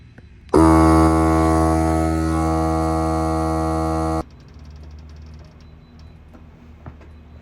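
An air compressor pumps car tires on a BMW E36 up to 50 PSI: a loud, steady droning hum kicks in abruptly, holds for several seconds, then cuts off. Quieter background noise with faint ticks follows.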